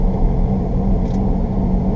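Growling wheel bearing on a car in motion, heard as a steady low droning rumble under road noise from inside the cabin, constant and without talk.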